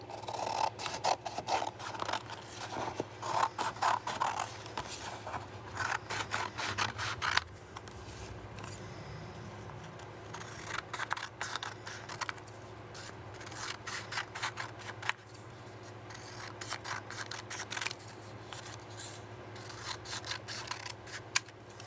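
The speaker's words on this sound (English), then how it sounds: "Just cut a bunch of triangles" Scissors cutting paper triangles for homemade mixed-media brushes: repeated bursts of quick snipping and rustling in clusters, with a quieter pause between them, close and fairly soft.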